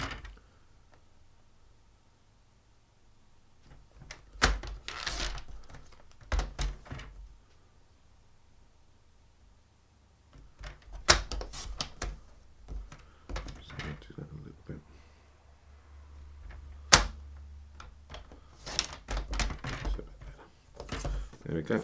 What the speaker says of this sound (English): We're going to cut from that mark to the corner to that one